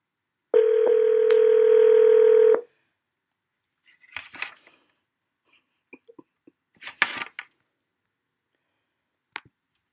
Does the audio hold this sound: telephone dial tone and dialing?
yes